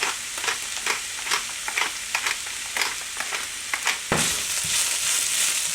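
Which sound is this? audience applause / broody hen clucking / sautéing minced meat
sautéing minced meat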